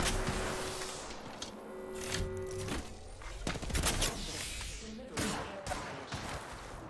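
Gunfire in the battle-royale video game Apex Legends, with dense bursts of rapid shots and impacts over steady game noise, loud and close, with a voice talking over it.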